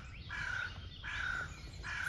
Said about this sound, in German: Vögel kreischen da oben von den Bäumen runter.